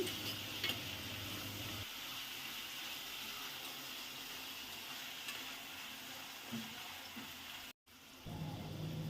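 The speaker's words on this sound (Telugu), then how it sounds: "చిన్నగా కట్ చేసుకున్న టమాటా కూడా వేసుకొని ఈ టమాటాని కొంతసేపు మగ్గించుకోవాలి" Tomato and carrot pieces cook in a pan for tomato bath, giving a steady close sizzle with soft stirring scrapes throughout, briefly cutting out near the end.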